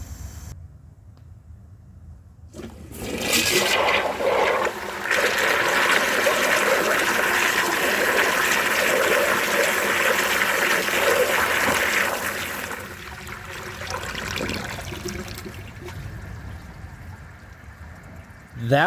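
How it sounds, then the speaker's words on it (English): An 18-gallon high-tank toilet flushes with a loud rush of water for about nine seconds, then the flow eases into a quieter trickle and splashing as the tank refills and spills over. "I am going to let the tank fill all the way up, and I'm going to flush it, and I'm going to see how much it overflows."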